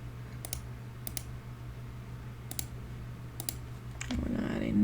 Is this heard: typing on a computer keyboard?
yes